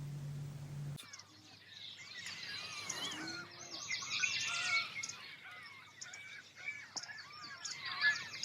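Many birds chirp and sing together in a dense outdoor chorus by a calm shoreline, overlapping calls close and far, steady throughout after a brief low hum at the start.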